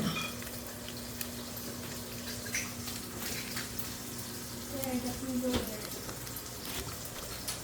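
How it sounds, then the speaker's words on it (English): A chuck eye steak sears in a hot pan just after being flipped, giving a steady close sizzle and crackle that runs the whole time, with a few louder spatters and a faint tone near the end. "I had it pretty hot, so flipping that steak over now."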